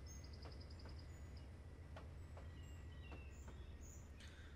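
Birds chirp faintly in a quiet outdoor scene in Trainz Simulator 3 on the Badgers Pass logging route, with short repeated tweets and scattered calls over a steady low rumble.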